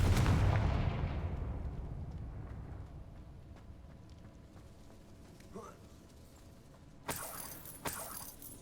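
A Confringo blasting spell from the Hogwarts Legacy video game erupts as a loud, deep explosive boom that slowly fades into a rumbling tail, followed later by a few sharper crackling hits.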